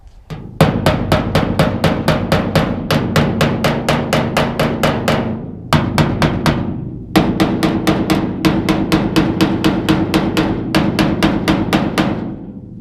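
Rapid, sharp hammer taps on the body of a 1981 Chevrolet Silverado, knocking in small dents in long steady runs with two short pauses between bursts.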